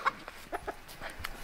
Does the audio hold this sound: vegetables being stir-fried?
no